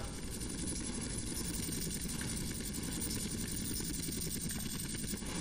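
A helicopter in Grand Theft Auto San Andreas drones with a steady, fairly faint rotor and engine hum that never changes in pitch or level.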